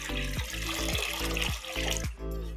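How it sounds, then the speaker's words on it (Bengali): Water is poured into a pan sitting on a kitchen stove, making a close, gurgling run of repeated glugging tones. "এবার চুলায় একটি প্যান বসিয়ে দিচ্ছি পরিমাণ মতো পানি।"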